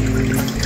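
Water flowing through the mechanical filter and water pump of a small betta aquarium ecosystem: a loud, close, steady rushing and gurgling wash with a constant low pump hum, no talk.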